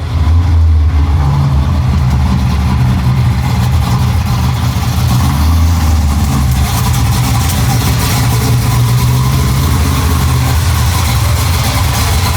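A Chevrolet El Camino's engine idles and rumbles steadily as the car pulls into a garage, a loud, close, continuous low drone with slight rises in revs.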